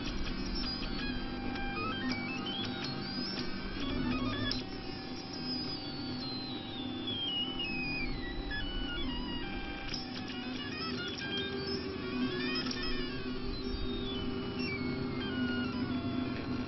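Close, steady whirring and stepping motor tones from an FDM 3D printer laying down non-planar perimeters in 3D, with sweeping pitch glides as the head moves. The hum continues alone throughout.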